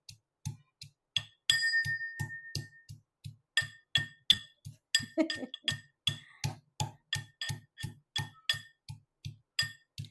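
Ginger, chilli and garlic are pounded in a mortar for Kathiyawadi dhokli. About twenty-five sharp, close thuds come in a steady rhythm, each with a clinking ring, and there are brief pauses near the start.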